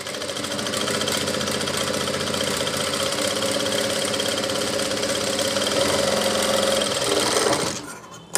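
An electric sewing machine runs steadily, stitching kurta fabric for a designer gents kurta, a continuous close whirring hum for about eight seconds before stopping abruptly.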